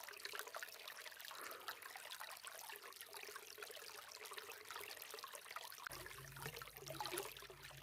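Snow melt creek trickling and babbling steadily nearby, a continuous broadband wash of running water with no voices.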